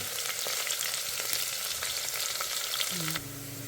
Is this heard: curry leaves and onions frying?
yes